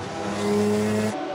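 Honda NSX race car takes the final corner at Tsukuba circuit, a loud sustained engine tone holding steady and swelling slightly before cutting off, alone with no voices.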